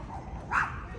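Several dogs barking outdoors, a single brief yelp-like bark at moderate distance over a low background hum.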